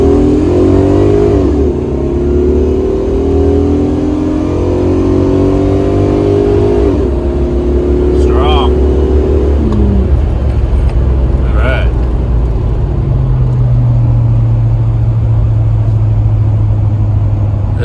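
LT1 355ci V8 car engine with upgraded valve springs pulling hard under full throttle on the street, a loud, rising roar that climbs toward high revs, eases off, then settles into a steady drone.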